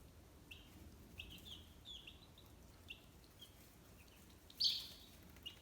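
Baby chicks newly brought home give a few faint, scattered peeping calls over a quiet background, with one louder chirp near the end.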